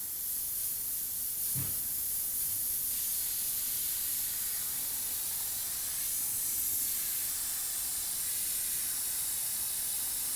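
An Iwata Eclipse HPCS airbrush sprays urethane paint thinned with reducer, making a steady, close airy hiss that holds for the full length without a break, with a brief soft knock partway through and no talking.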